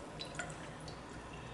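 Ethanol drips from a pipette onto a watch glass as it is rinsed, giving a few small, close wet drips and splashes over soft background noise.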